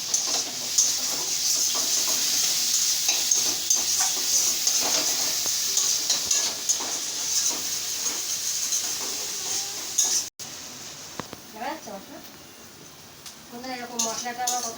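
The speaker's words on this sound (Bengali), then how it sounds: "এরকম মশলাটা আমার কত সুন্দর কষা হয়ে গেছে, দেখেছো?" Chili-powder spice masala sizzling and frying in a pan while fish is cooked, a steady hissing fry with scraping and clinking of a utensil, a voice talking over it toward the end.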